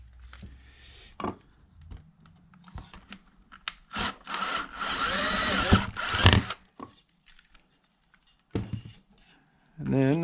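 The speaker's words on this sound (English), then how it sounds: "Let's drill a hole." A power drill bores a hole in wood for a dowel using a bit slightly larger than 8 mm, whirring loudly for a couple of seconds between quieter handling noises and brief bursts.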